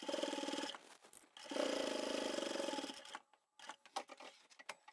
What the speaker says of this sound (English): I'll do 1 or 2 stitches over the top, and then I'll backstitch just to reinforce that